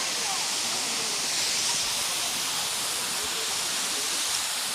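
Kulimagod waterfall at Magod roars as a dense, steady rush of falling water, loud and unbroken throughout.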